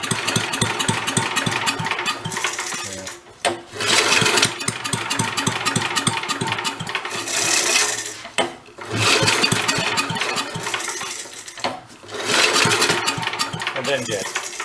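An old Mite-e-Lite generator engine sputters and struggles to hold speed, with a close, rough chugging that surges and dies away several times in uneven bursts.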